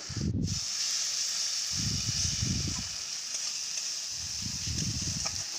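Spice masala sizzling in oil for a fish curry, a continuous bright hiss with low rumbling bursts of bubbling or stirring in between, close and without talk.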